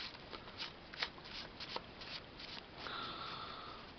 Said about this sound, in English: It shuffles nicely if you have only 2 layers of cards